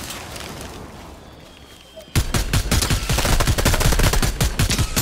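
Tommy gun fire in a multiplayer shooter video game: after a quieter stretch of ambience, rapid bursts of automatic gunfire break out and continue loud and dense, with other shots mixed in.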